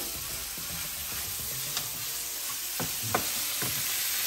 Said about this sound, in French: On va le faire revenir dans un peu d'huile. J'ajoute un peu d'oignon.